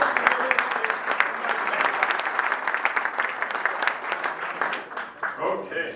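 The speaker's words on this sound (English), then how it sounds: "let's give them a round of applause and thank you" At a Rotary club meeting, the audience breaks into applause, a crisp patter of individual claps from a modest crowd that thins out at the end as a voice begins speaking.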